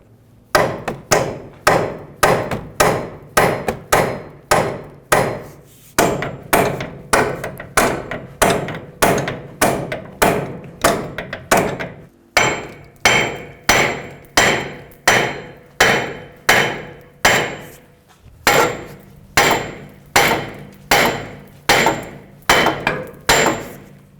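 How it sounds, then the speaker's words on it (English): A 4-pound sledgehammer repeatedly strikes bolts from behind to drive out a front hub bearing assembly on a 2011-2017 Honda Odyssey, loud close metallic blows in a steady rhythm of around forty hits, with brief pauses between bursts. "we're going to hit these bolts from the back side here to try and drive our hub bearing assembly forward."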